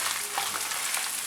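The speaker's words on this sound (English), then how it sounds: "I'll be sauteing the red chilies for about a minute" Red chilies sizzle and fry in a hot pan, a continuous close crackling hiss with no voices.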